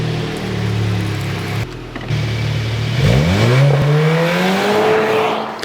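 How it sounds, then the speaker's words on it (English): A car engine cranks and settles into a steady idle, then revs up sharply with a climbing, whining pitch that holds high toward the end, loud and close with no talking. "Unplug your Ultralink and start your vehicle"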